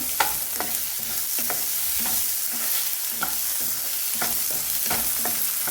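A tomato mixture is stirred as it fries in a pan with very little oil, a steady sizzle running throughout under regular scraping strokes of the spoon.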